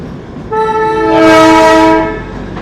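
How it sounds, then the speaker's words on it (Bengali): Darjeeling toy train horn sounding on the Siliguri to Rongtong route, one loud sustained chord-like blast lasting about a second and a half, close by, with no talking. "তো ট্রেন তো চালু হয়ে গেল"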